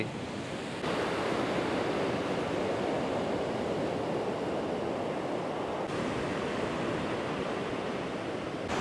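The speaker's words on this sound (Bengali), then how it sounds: "সাদা ফেনা, সাদা ঢেউ চারিপাশে" Sea waves break continuously on Bagda beach, a dense, even surf roar with light wind noise that swells slightly after the first second and holds steady throughout, with no voices.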